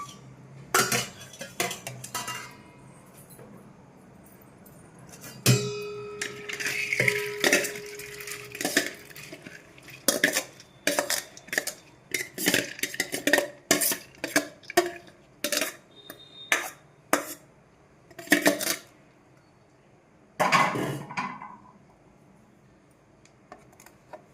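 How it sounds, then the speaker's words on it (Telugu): Chopped chillies, tomatoes and onion scraped and tipped into a bowl, giving a long run of close, irregular clinks and clatters of utensil on dishware with quiet gaps between them. "ఇప్పుడు మనం అన్నీ ఒక బౌల్లోకి ట్రాన్స్ఫర్ చేసుకుందాం"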